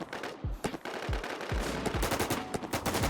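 Gunfire in the video game Warz comes as sharp, close shots and short bursts over a steady noisy game background, with no speech.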